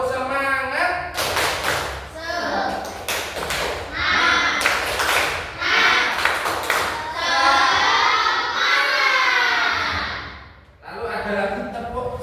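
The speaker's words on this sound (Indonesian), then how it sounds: "Tepuk semangat." A group performing the rhythmic 'tepuk semangat' clapping chant in a classroom: bursts of loud claps alternating with chanted voices, fairly close.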